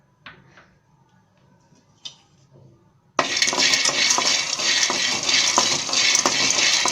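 Peanuts dry-roasting in a pan for a Tamil thattai snack give a steady, close scraping and rattling with small clinks, starting abruptly after a few quiet seconds of faint ticks.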